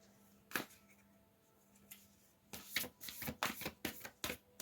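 A deck of cards being shuffled at close range, with a couple of isolated riffles and then a quicker run of papery flutters toward the end in a quiet room.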